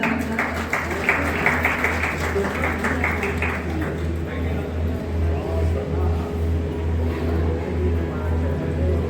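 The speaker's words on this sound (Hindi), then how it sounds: "मंचासीन कृपया इनका जोरदार तालियों से स्वागत किया जाए" A crowd applauds to welcome a health employees' union official onto the stage at a district hospital event in Baikunthpur, clapping steady through the clip over a low constant hum, with talk mixed in.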